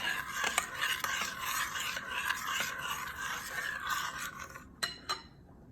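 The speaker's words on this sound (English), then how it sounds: "stirring until blended" A spoon scrapes and clinks around a bowl while stirring a cream cheese mixture with dissolved yeast and a beaten egg, a soft continuous scraping with light metallic taps near the end, close and quiet.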